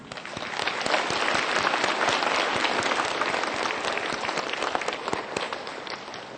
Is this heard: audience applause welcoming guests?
yes